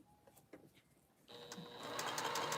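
A sewing machine stitches a quilt, starting with light clicks then breaking into a loud, close, continuous mechanical whir of rapid needle strokes that builds toward the end.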